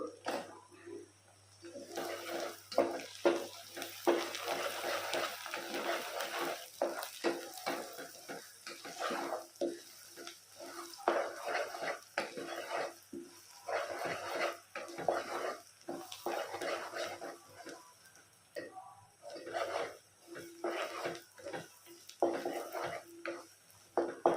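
Onions frying in a pan with curry leaves and green chillies for Andhra-style chicken fry, heard as an ongoing sizzle broken up by frequent stirring scrapes and clinks of utensils against the pan.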